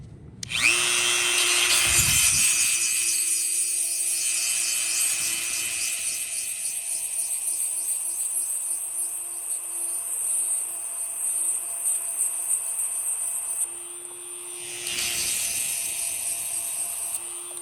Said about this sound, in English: I'm only going back and forth so that I can keep the wear on the stone even.